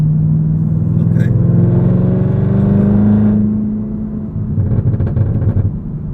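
A 2022 Chevrolet Camaro ZL1 manual coupe launches hard under launch control, its engine rumbling loud and close in a rising roar that eases off midway before surging again, with occupants talking over it.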